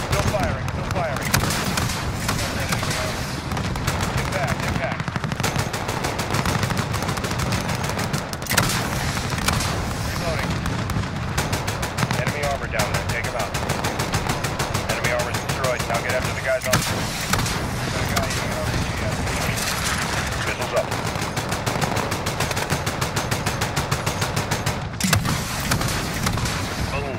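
Sustained gunfire and heavy artillery-like blasts in Call of Duty: Modern Warfare, dense rapid bursts continuing steadily under radio chatter and spoken military callouts throughout.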